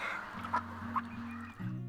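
A rescued duck at a farm animal sanctuary calls with a few short, close clucking quacks over a steady low hum, with no talking.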